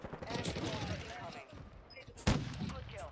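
Sniper gunfire in the Warzone video game: a single sharp crack lands near the middle of the clip, loud against a busy game background, with people talking over it.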